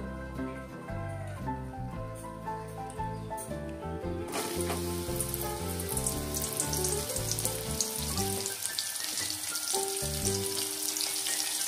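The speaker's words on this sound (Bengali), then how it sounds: "এবার এই তেলেই আমি পটলগুলো দিয়ে দেবো। পটলগুলো একটু ভেজে নেব।" Pointed gourd pieces fry in hot oil left over from frying paneer, a steady loud sizzle that swells into a dense crackle partway through, under continuous background music and with no talk.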